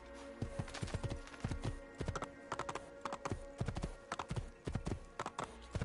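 A horse in the video game Assassin's Creed 2 clip-clops along at a steady trot, its hooves striking in a brisk, regular rhythm, close and clear.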